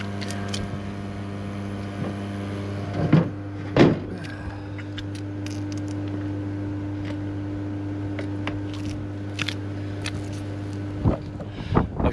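A pump running steadily as it pushes air into tanks gives a constant low mechanical hum with a tonal whine, broken by a few sharp clunks and knocks, with no talking.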